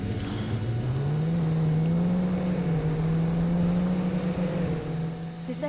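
A car in the video game Defiance drives off, its engine a steady loud drone that rises slightly in pitch, running continuously throughout.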